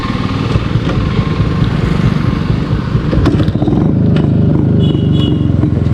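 A vintage Yezdi motorcycle engine runs loudly and continuously, a close, rough low throb with mechanical clatter and no talking.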